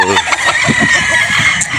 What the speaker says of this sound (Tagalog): pinipili nila sa kung gaano kagwapo yung mga manok ni Boss Martins